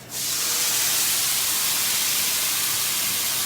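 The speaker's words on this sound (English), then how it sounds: "I'm gonna add just a little bit of water to my cauliflower" A splash of water, about a tablespoon and a half, hits hot cauliflower in a pan, setting off a loud, steady sizzling hiss that flares at once and holds for several seconds with no talking.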